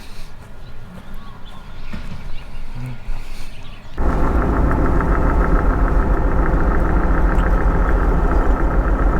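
A car engine on the island of Lanai starts up as driving begins, a loud, steady rumble that suddenly swells and holds after a quieter, uneven opening stretch of rustling and low noise, with no talk.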